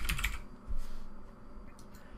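Quick keystrokes on a computer keyboard as a short command is typed, a cluster of close, crisp clicks followed by a few lighter taps, with no talk.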